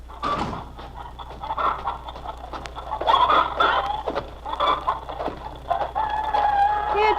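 Chickens cluck and squawk close by, with a rooster crowing amid the busy, uneven barnyard calls and a low steady hum underneath.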